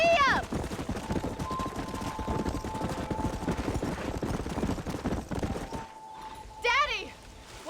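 Galloping hooves from a horse in Red Dead Redemption drum in a rapid, steady clip-clop, with a brief high vocal cry at the start and another near the end, and a faint sustained tone underneath.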